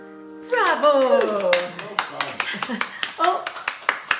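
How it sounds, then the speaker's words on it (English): Sparse clapping from one person sitting on a beanbag in the corner of a kitchen during a home concert, a handful of sharp separate claps that follow a voice holding a long sung or spoken note. "there is someone clapping from the beanbag in the corner"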